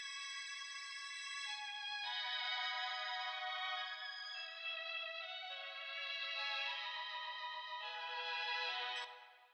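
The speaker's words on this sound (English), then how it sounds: "This time around, I raised the first chord up an octave" A bright synth chord melody built in Logic Pro X for a 2000s-style R&B beat, with the first chord raised an octave, plays alone as sustained stacked tones shifting through chord changes before cutting off near the end.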